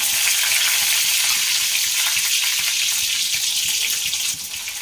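Garlic and chopped chillies sizzle in hot oil with a loud, dense, steady frying crackle close by, no talk.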